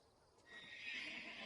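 A horse gives a single loud neigh that rises and holds against a faint, quiet background, with no voices.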